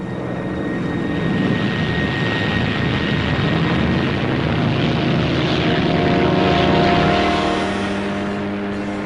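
A heavily loaded P-38 fighter with extra fuel tanks takes off on a long takeoff run, its engine roar loud, continuous and close, swelling slightly toward the end with no speech.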